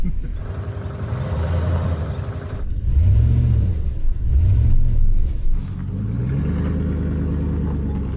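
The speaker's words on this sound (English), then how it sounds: "I need to hit the gas in reverse to put weight on the front wheels for it to turn." A pickup truck engine revs hard while the truck accelerates in reverse, a loud, close, rumbling roar that surges and dips in a few swells over about eight seconds.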